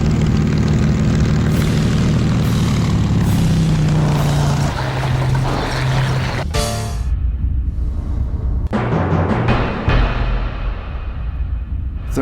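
American propeller airplanes from the Second World War drone and roar in a dense, steady wash of engine noise that shifts midway, with a sharp break and rumbling tail.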